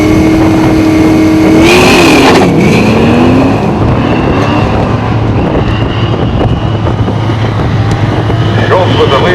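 A 5-liter Mustang race car at an OSCA race weekend in July 2004, its engine note climbing and falling as it passes amid steady wind rush and track noise, with a voice talking over it.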